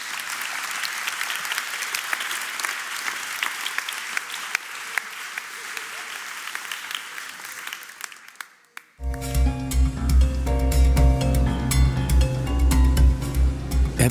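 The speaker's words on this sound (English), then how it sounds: "Applause." Sustained applause from an audience at the European Green Capital 2025 and European Green Leaf 2025 awards ceremony fills about nine seconds, then stops abruptly as loud music begins.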